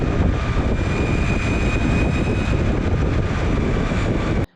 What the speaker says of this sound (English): this is the sound of the Flex Riot